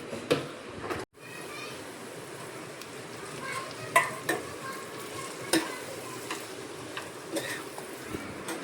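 Leftover rotis tempered in a hot pan give a steady close sizzle with scattered scraping stir clicks; a brief dropout near the start, and faint voices may sit under it.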